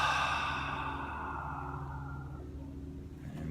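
A long, breathy exhale out through the mouth during a guided meditation, loudest at the start and slowly fading over a few seconds, close and unaccompanied.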